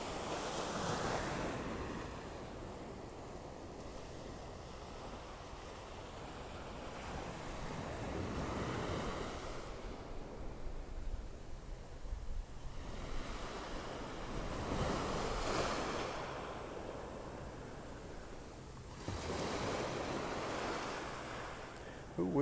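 Ocean surf rolls in slow repeating swells on a beach in North Naples, Florida, with gusty wind buffeting the microphone throughout.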